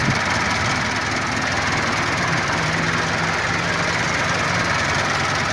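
A car engine, started after two years unused, idles loudly with a constant droning rumble and hiss, unchanging throughout, close by with no other sounds.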